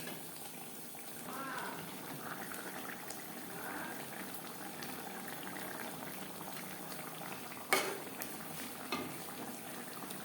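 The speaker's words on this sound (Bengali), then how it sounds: "গ্রেভির সাথে মাছ আরও তিন চার মিনিট রান্না করবে" Fish pieces simmer in a raw tomato gravy, a continuous close bubbling and gentle popping with a brief clatter near the end and faint talk underneath.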